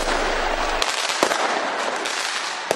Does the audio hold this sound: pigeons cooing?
no